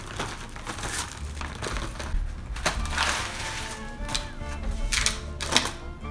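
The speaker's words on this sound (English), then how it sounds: "Let's go ahead and get that open. There's plastic on the outside and plastic on the inside." Plastic wrapping on a package of Passover candies, an outer layer and an inner layer, crinkles and tears open in a steady run of close, dry rustling and crackling with brief sharper rips, no one talking.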